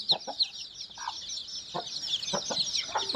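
Native country chickens and their chicks cluck in repeated short calls over a steady high chirping of chicks, the sound close and continuous throughout.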